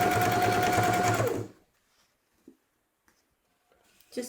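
Sewing machine running a simple straight stitch on a pillowcase, a steady rapid whirring hum for about a second and a half, then stopping into near silence with a few faint handling clicks.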